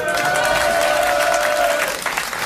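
Studio audience on a 1982 French television show claps loudly and steadily, a thick wash of applause with a sustained tonal note running beneath, tapering slightly at the end.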